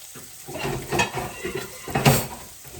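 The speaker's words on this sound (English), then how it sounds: "all you're going to be doing to the liver is browning this liver" Liver browns in a pan, a soft sizzle running under a few clinks and scrapes as it is stirred, quiet and close by.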